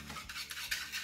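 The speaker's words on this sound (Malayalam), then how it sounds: "ഈ പാലും കൂടി ഒഴിച്ചൊന്ന് മിക്സ് ചെയ്ത് കൊടുക്കാം" Milk is whisked into an egg mixture for a quick snack, giving a brief run of soft, rhythmic scraping and swishing strokes against the bowl, fairly quiet and close.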